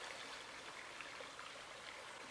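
Water drips and trickles down a mossy rock wall near a river by a covered bridge, a soft, continuous splashing hiss with no voices.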